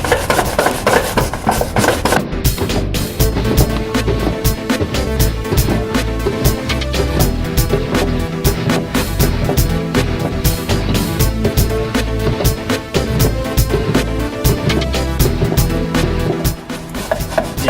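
A cucumber is rubbed hard against a vegetable grater, making a loud, continuous rasping scrape with quick repeated strokes that run steadily for nearly eighteen seconds.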